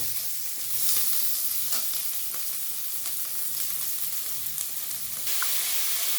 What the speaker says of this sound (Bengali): একটা তেজপাতা, আর পেঁয়াজ কুচি আর চেরা 2টো কাঁচা লঙ্কা দিয়ে দিলাম। দিয়ে একটু ভেজে নেব।